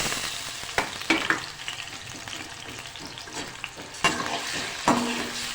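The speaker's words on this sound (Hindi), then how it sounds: "अब इसमें सबसे पहले मैं टमाटर डालूँगी।" Tomatoes hit hot oil left from frying okra and set off a busy, crackling sizzle. A spoon stirs and knocks against the pan several times, close by and with no voices.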